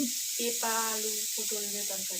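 Curry jhol frying in a pan gives a steady, fairly faint sizzling hiss that runs the whole time, with a voice speaking over it.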